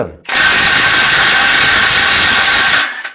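A Mollar CIW20750 Gen 3 cordless impact wrench runs one continuous burst of close, loud, rattling hammering for about two and a half seconds while loosening a bolt at a 500 Nm setting, then cuts off.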